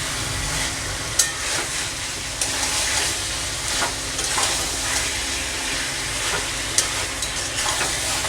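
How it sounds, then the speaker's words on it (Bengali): Chicken pieces fry and get stirred around a pan, a continuous loud sizzle broken by occasional scrapes and clicks of the spatula, with no voices. "চিকেনটা দিয়ে আর একটু নেড়ে নেব এদিক ওদিক করে।"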